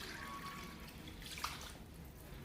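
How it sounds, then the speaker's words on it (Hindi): Water is poured into a pan of masala fish curry with green chilies, making a steady, soft, faint rush with one small click midway and no voices. "और अब हम इसमें ऐड करेंगे पानी"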